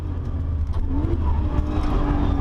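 A Nissan GT-R in R mode launches on the Nürburgring, with a loud, steady in-car engine roar and a rising tone as it gathers speed.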